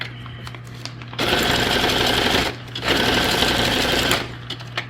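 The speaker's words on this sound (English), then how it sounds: "Now I'm just going to sew on the rest because it's only a little bit left." A sewing machine stitches a junk journal tag in two long steady runs of rapid whirring, separated by a short pause, loud and close with a low hum underneath.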